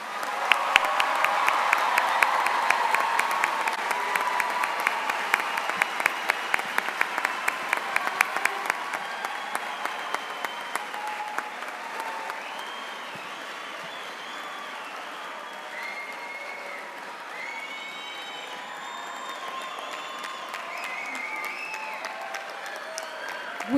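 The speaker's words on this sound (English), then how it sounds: "A big round of applause for all of our graduates." Crowd applauding the graduates at the West Leyden 2019 graduation ceremony, dense clapping that is loud at first then thins and fades, with cheering voices rising over the dwindling applause.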